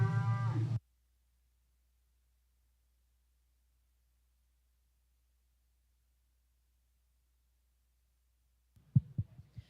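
A heifer or cow at a rodeo breeding-heifer show lets out a short, loud, near moo at the start, then near silence, with a few faint bumps and knocks near the end.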